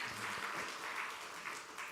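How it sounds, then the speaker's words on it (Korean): A church congregation claps in sustained applause during a worship service, a dense even wash of hands that fills the whole stretch, with a faint voice underneath at the start. "하나님께 영광의 박수 올려드리십시다."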